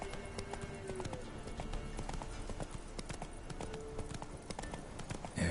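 Horse hooves clop rapidly in a steady galloping rhythm in the Witcher 3 video game, a continuous close beat of hoof strikes over faint ambient background, with no talking.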